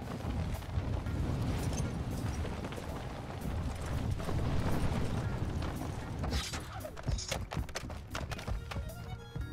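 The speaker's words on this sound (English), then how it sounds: "Mortar strike inbound now." Mortar strike explosions rumble through a battlefield video game, a dense, continuous low booming barrage that rolls on for several seconds before sharper, more scattered blasts and debris crackle near the end.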